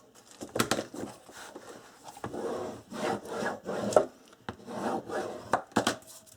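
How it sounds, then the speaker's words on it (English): A tool burnishes paper down on a calendar book album. The close, scratchy rubbing strokes come in irregular bursts with some light taps between them, and no one speaks. "burnish that down"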